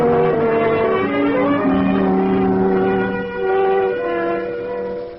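Underground train sound effect from an old-time Sherlock Holmes radio drama, a continuous rumbling run with sustained horn-like tones, loud and near, fading slightly at the end.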